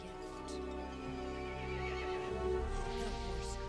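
Horse neighs and whinnies in Resident Evil 8, a drawn-out call set over a dense, sustained, droning game soundscape.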